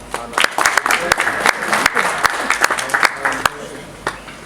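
Crowd applause at a boxing press conference, dense clapping with sharp individual claps near the mic, loud and sustained, with voices and crowd murmur mixed in.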